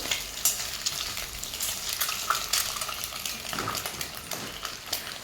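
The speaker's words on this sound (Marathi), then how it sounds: "आपल्याला आता खालीवरी करून घ्यायचे तेलामध्ये छान तेलाचं कोटिंग आलं पाहिजे" Eggs tossed in hot oil in a pan sizzle continuously at close range, with repeated utensil scrapes and clinks as they are turned over; no voices are heard.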